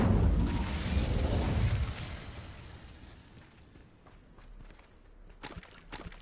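A fire spell, Incendio, is cast in the Hogwarts Legacy video game, a loud fiery burst that fades over about two seconds into quieter rumbling, with a few faint pops toward the end.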